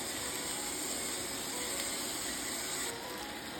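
Black pepper ground from a pepper mill over vegetables for hot pockets: a continuous close, gritty, ratcheting grind that stays even and softens slightly at the very end.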